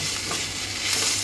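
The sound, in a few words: frying tomatoes in pan on low flame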